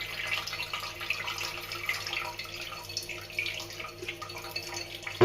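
An item being rinsed under a running tap, a steady soft stream of water with splashes and trickles against it, close and moderately quiet, with no talking.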